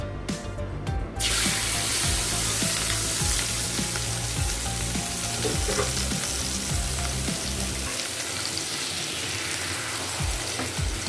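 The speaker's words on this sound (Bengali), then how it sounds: "এবার এই তেলের মধ্যে পরিষ্কার করে বেছে ধুয়ে রাখা চিংড়ি মাছগুলো দিয়ে দিচ্ছি।" Cleaned prawns hit hot oil and fry with a steady, loud sizzle, punctuated by scattered pops and spatters, with the frying running continuously and close throughout.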